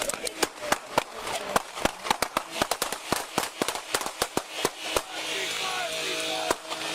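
Gunfire recorded on a police body camera during a traffic stop in Farmington, Utah. Many rapid, sharp shots ring out in an irregular, overlapping burst, loud and close, then stop, with one isolated shot after a pause.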